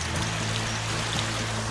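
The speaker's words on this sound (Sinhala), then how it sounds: "ගල ඇතුලෙන් ඉන්නේ වතුර පාර." A stream of water flows out from inside a large rock, cave-like, near a hidden waterfall in Sri Lanka, giving a steady close trickling rush that continues evenly without talk.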